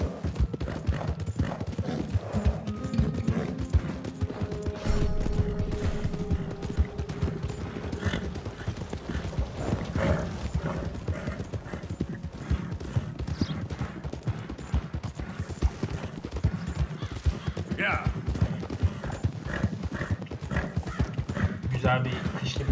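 Horse hooves clip-clop steadily in Red Dead Redemption 2 as a rider handles two horses, a continuous loud trotting rhythm with occasional whinnies, gunshots and someone talking over it.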